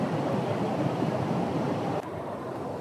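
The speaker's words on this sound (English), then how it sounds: "The volume of water going over the falls is just incredible at the moment." Bracklinn Falls waterfall in flood after a storm, a heavy, continuous roar of rushing water close by, steady throughout with no talk.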